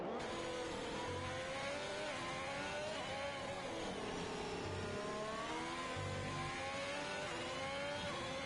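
An Alfa Romeo Formula 1 car in the F1 2021 racing game on the Singapore circuit screams through its gears, the engine note climbing and dropping repeatedly as it accelerates and brakes, loud and continuous with no speech.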